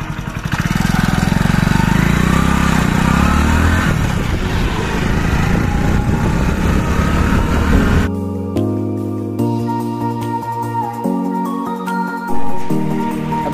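A motorcycle on the road toward the Khatu Shyam temple runs loudly and close for about eight seconds, then the scene cuts to a quieter stretch with fainter engine sound.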